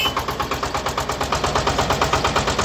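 A 24-horsepower single-cylinder SHIFENG SF 240 tractor engine chugs steadily at close range, with rapid, evenly spaced thumping beats and no voices.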